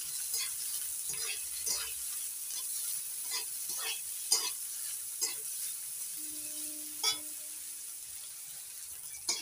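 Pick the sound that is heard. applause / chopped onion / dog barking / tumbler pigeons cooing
chopped onion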